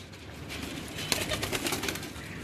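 Pigeons coo softly on a rooftop loft amid steady outdoor background noise, with no talk.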